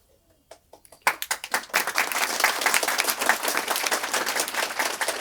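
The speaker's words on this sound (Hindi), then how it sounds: "ताली लगाते अब जाओ भी" Audience applause at a spiritual discourse begins with a few scattered claps, then swells after a second into steady, dense clapping from a sizeable crowd that holds for several seconds.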